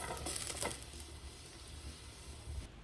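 Potatoes and spices sizzle and fry in a pan while being stirred, a soft steady crackle with a few scraping, clattering stir bursts near the start, heard up close and fairly quiet.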